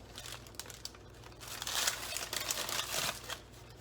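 Thin plastic packaging crinkles and rustles close by as cheese slices are peeled out and pulled apart, a steady run of soft crackles with brief louder crunches, no talking.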